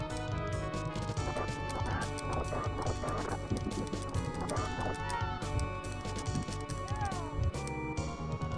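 A horse in a video game gallops with rapid clip-clop hoofbeats and lets out neighs, loud and continuous over dense game music and effects.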